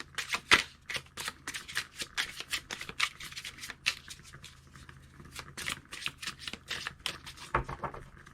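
Tarot cards are shuffled close by in quick, crisp riffling flicks that come in irregular rapid bursts, with a few sharper slaps among the soft, quiet card sounds.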